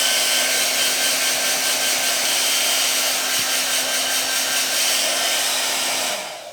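A Cien hair dryer bought from Lidl runs with a focusing nozzle attachment, giving a loud, steady, close-up blowing whir with a constant motor hum before it cuts off at the end.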